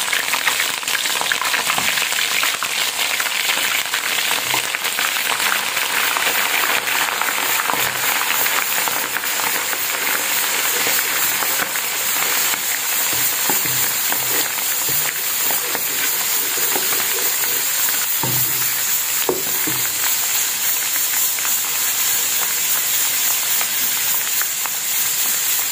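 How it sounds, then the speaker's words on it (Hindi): Garlic and ginger paste fries in a hot pan for Indian-style masala fish karahi, giving a constant loud sizzling hiss with a few faint stirring scrapes and no talking. "लहसुन और अदरक का पेस्ट डाल के हम इसको लाइट जो है ना ब्राउन कर लेते हैं।"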